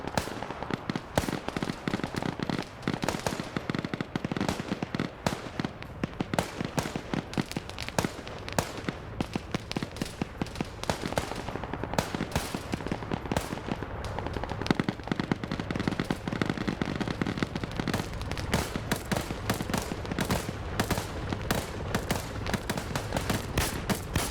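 Gunfire is traded back and forth in a ship battle in a video game, with sustained rapid bursts and scattered loud shots crackling almost nonstop for over twenty seconds and no talk over it.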